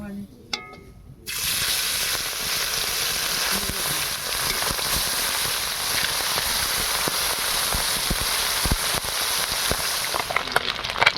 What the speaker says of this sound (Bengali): এবার বাদ বাকি মাছটাও একইভাবে ভেজে নেব।